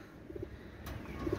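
Saki group pigeons coo in brief, low, soft notes at the start and again at the end, quiet and close, with a faint thump in between.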